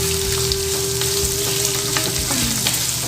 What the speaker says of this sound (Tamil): சின்ன வெங்காயம் சீக்கிரமாக வதங்கிடும்.